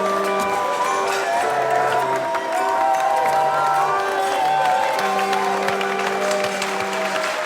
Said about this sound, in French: et toute la salle applaudit.